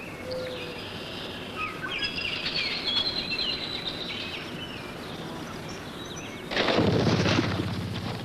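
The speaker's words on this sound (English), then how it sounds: "It's also the time that many birds begin their nesting, including Leopold's beloved ruffed grouse" Birds call in spring nesting season in May on open savanna, with thin chirps and whistles scattered over steady outdoor background noise. A louder, broad burst of sound swells in near the end.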